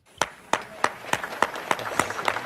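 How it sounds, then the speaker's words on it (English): An audience at a homegoing service claps in a steady, rhythmic beat, each sharp clap ringing out at an even pace over a soft murmur of the gathered crowd, fairly close and loud. "They clapping because I done shut up."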